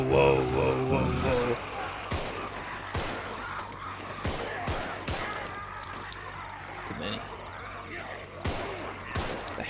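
Gunfire rings out in the zombie video game Contagion, a series of sharp, loud shots at irregular intervals over a noisy background, with someone talking during the shooting.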